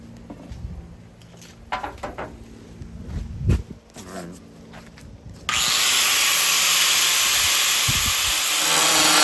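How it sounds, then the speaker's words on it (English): Scattered clunks and handling noises give way to a sustained, steady high-pitched whir of a power drill running continuously on go-kart parts, close and loud. "Oh yeah, I gotta drill that."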